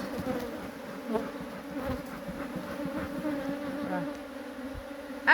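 Honey bees buzz steadily and close at a beehive being readied for spring, a dense droning hum with individual bees passing near the microphone and a brief louder sound at the end.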